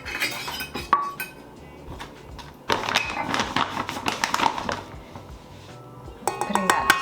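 Almond flour goes into a stand mixer bowl with clinks and clatters of metal and glass bowls and utensils, scraping and tapping in uneven bursts at close range.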